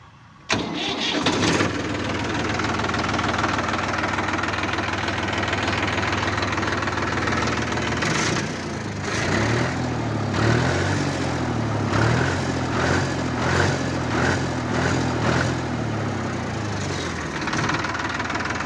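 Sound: New Holland 3510 tractor engine running

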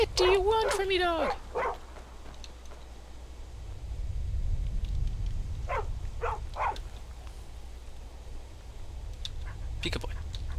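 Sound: dog barking in Skyrim video game

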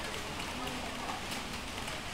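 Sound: rain falling

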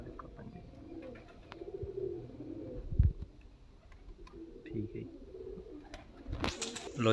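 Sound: pigeons cooing

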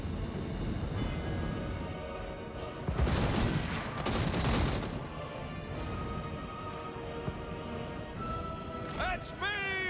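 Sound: Hellblaster volley gun firing in video game Total War: Warhammer

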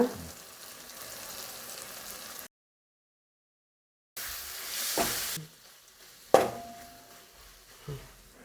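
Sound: onions and tomatoes sautéing with chili powder in pan

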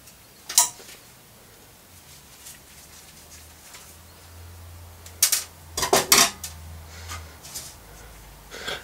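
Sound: Phillips screwdriver undoing two screws on a small engine

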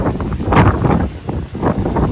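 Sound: strong wind

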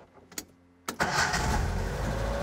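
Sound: Nissan Sunny Datsun 1200 truck engine starting

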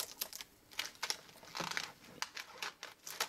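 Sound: peeling tape off bead packaging

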